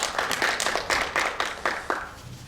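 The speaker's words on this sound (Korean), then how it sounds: "박수 좀 부탁드리겠습니다" An audience at a panel debate on a North Korean human rights law claps for an introduced speaker, a brief scattered round of applause of moderate loudness with no talking over it.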